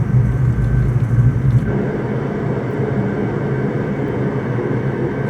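Airplane engine roaring steadily during the takeoff roll, a loud continuous rumble with a smooth broadband drone that holds even throughout, no voices.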